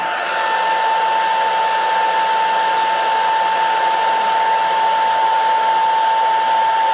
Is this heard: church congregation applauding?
no